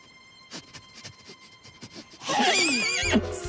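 A cartoon horse lets out a loud, wavering whinny that rises and falls after a stretch of soft thuds and background music tones, ending with a brief low rumble.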